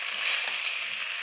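Potato and kochu pieces cook with spices in a pan, making a brief, soft, even hiss of frying without any voice.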